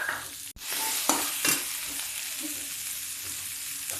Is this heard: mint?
yes